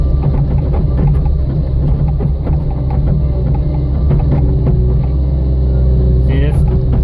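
A skid steer engine runs steadily while moving hay, a loud continuous low rumble with slight shifts in pitch, heard close throughout.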